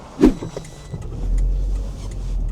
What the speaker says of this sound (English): Right, let's go for a quick test drive.